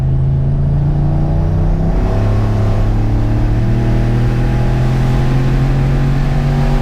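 A budget turbocharged truck accelerating hard through the gears, its engine note droning loud and close from inside the cab as it climbs steadily in pitch, with a brief shift-like dip near the start; no talking.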